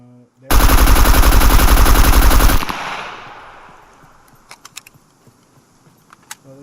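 A rifle in the video game Scum fires a sustained full-auto burst, loud and dense for about two seconds, then cuts off into a fading tail with scattered faint clicks and ticks.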